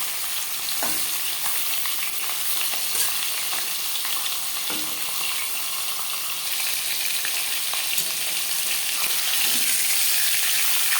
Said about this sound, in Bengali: আমি রান্নাটা রিফাইন্ড অয়েলে করছি আপনারা চাইলে সর্ষের তেলেও করতে পারেন আর দিয়ে দেবো মাছ